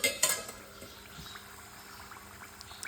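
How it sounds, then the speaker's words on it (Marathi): Masala sautéing in a pot for Nashik-style misal pav, a soft bubbling sizzle with a few sharp utensil clinks near the start, then a steady low simmer with faint pops. "जेवढं तुम्ही मसाला छान पद्धतीने परतून घेणार छान असा तुमचा मसाला शिजला जाईल"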